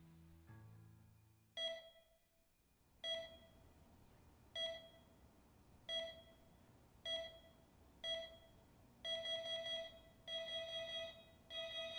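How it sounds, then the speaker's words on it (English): A loud alarm clock beeps in repeated bursts, spaced roughly a second and a half apart and quickening into tighter double bursts toward the end, preceded by a brief low rumble. "Is that the alarm clock?"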